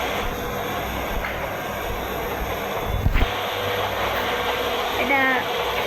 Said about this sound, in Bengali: আমাদের সঙ্গে একটা মালগাড়ি, মানে মালগাড়ি ট্রেন।